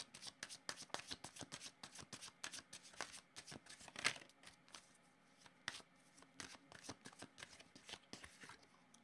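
A deck of oracle cards is shuffled by hand in a steady run of crisp, close riffling flicks and soft slaps, with one sharper snap partway through and no talking.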